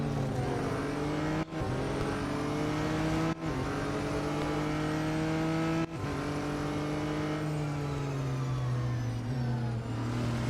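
Racing car engine in Real Racing 3 on the short Porsche test track, a loud sustained drone that climbs through the gears, with brief cuts at each shift.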